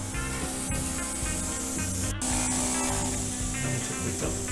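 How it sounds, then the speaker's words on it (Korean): A fine-mist water spray bottle sprays plants in a steady, continuous hiss, with one sharp pump click partway through, close and fairly loud. "이런 식으로 입자가 곱게 나오는 물 스프레이를 사용하시는 것도 좋겠습니다"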